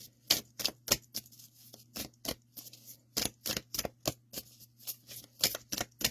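A deck of tarot-style cards is riffled and shuffled by hand in repeated quick bursts of crisp flapping clicks, close and clear, with no talking.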